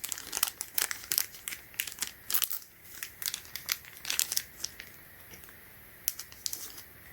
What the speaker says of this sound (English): This one, this side is wrapped around with a plastic bag.